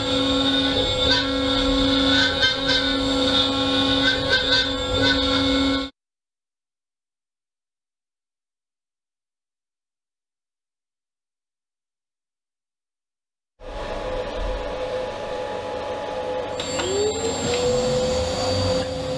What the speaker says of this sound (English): First, I'm going to cut the pickup pockets.